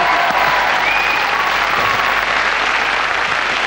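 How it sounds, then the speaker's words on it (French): Studio audience applauding racing driver Alain Prost on a 1995 French television show, a loud, sustained crowd clapping that stays steady from start to finish, with a few faint tonal whistles mixed in and no speech. "Quel pilote, mesdames, messieurs, applaudissements."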